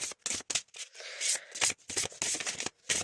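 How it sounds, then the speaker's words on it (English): Playing cards riffled and shuffled close up in a quiet room during a tarot-style card reading, a run of crisp papery bursts in an irregular rhythm with brief pauses, no voice over them. "so I'll stop shuffling"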